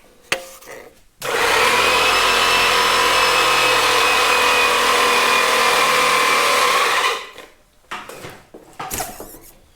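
A hydraulic track press pushes a Caterpillar D2 crawler track together. A loud, steady motor whine runs for about six seconds and then winds down, followed by scattered metallic clanks and shop noises.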